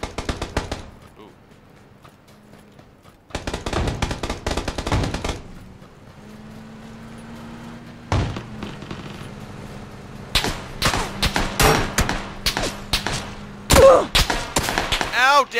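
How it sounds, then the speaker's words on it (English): Gunfire in the video game PUBG comes in sharp bursts, short automatic volleys separated by quiet gaps and then rapid repeated shots near the end, with a voice speaking between them. "stop shooting me"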